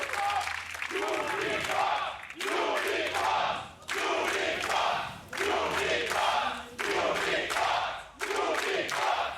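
A crowd in an esports arena at a League of Legends Worlds 2019 play-in tiebreaker chants rhythmically for Unicorns of Love, repeated swelling bursts of cheering and shouting with pauses between.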